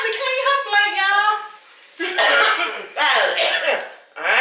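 Several harsh coughs in quick succession come close and loud, alternating with throat-clearing sounds and short gaps in between.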